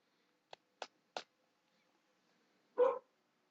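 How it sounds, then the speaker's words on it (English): A dog gives three short, sharp barks in quick succession, then a longer, fuller bark after a pause, all heard nearby against an otherwise quiet background. "Ignore my dog."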